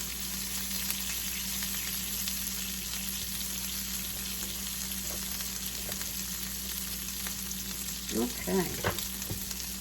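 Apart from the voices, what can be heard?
fairy tale eggplant and garlic sauteing in a pan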